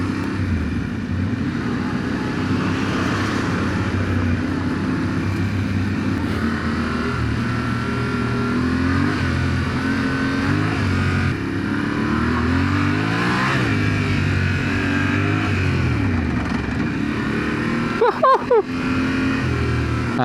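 Yamaha T7 adventure motorcycle accelerating along a road with lorries around, its engine a steady loud drone that rises in pitch, with wind noise throughout and a brief burst of rattling near the end.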